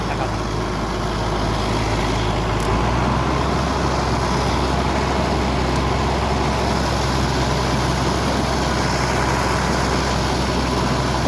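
A boat engine runs on a shrimp pond after the net is hauled in, giving a steady, low, rumbling drone that carries on evenly throughout.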